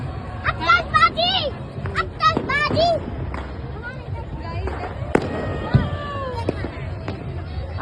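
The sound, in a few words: fireworks going off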